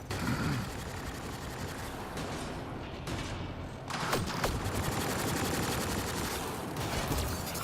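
Sustained gunfire and weapon bursts in the sci-fi shooter game Mass Effect: Andromeda, dense and continuous, growing louder and heavier partway through with sharp crackling shots over a rumbling battle bed.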